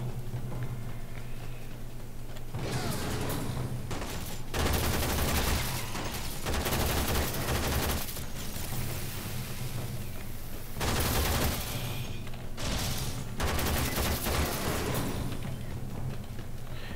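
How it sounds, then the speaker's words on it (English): Bursts of rapid gunfire in the futuristic sci-fi shooter Warframe, dense volleys that start and stop in irregular stretches, with a low steady background hum. "Cause I'm shooting at them."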